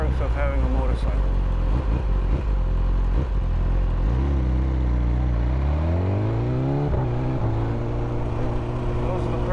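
A BMW M 1000 R motorcycle ridden at night, its engine droning loud and close with a rising pitch sweep as the rider accelerates, steady rumble throughout under the rider's voice.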